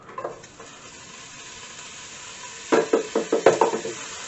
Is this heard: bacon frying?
yes